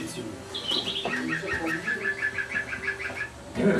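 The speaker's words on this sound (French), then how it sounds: "Ah, c'est joli, avec les petits oiseaux et tout." Birdsong in a French radio station jingle: a rapid, steady run of bright chirps and tweets repeats over soft background sounds, clear and close.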